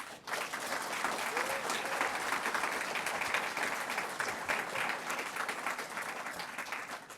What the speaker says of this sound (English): Can we please get a round of applause for Linda and the II staff?